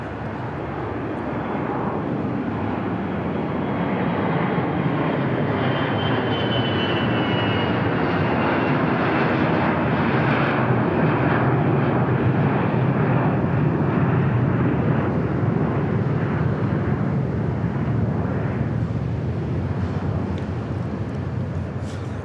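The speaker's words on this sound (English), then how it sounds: "This is the Global 5000 we saw just taxiing out." A Bombardier Global 5000 business jet taxis at Dallas Love Field, its engines producing a steady, rising whine and rumble that swells to a loud broadband roar across the whole stretch, with no voices.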